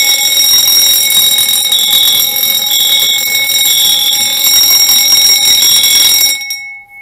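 Fire alarm bells ring loud and continuous from a Simplex 4010 fire alarm panel system during a test, a steady sustained ringing with bright tones that cuts off abruptly near the end.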